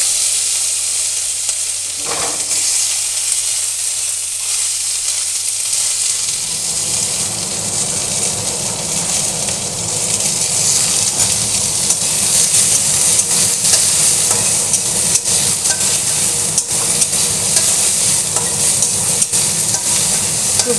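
Chopped garlic, onion and green chillies dropped into hot oil with kalonji, bursting into a loud, steady sizzle that continues strongly for about twenty seconds, with a brief clatter at the start and no talking.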